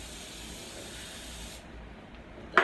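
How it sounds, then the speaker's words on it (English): Non-stick cooking spray hisses onto a cookie sheet in a steady close spray that cuts off, followed by a brief sharp clatter. "So I've got my non-stick cooking spray here."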